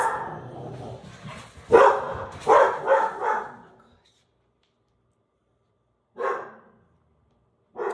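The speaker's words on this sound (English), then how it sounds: "I have no idea why my dogs are barking." Dogs bark in a short burst of several loud yaps, then fall quiet, with a couple more barks breaking the silence later.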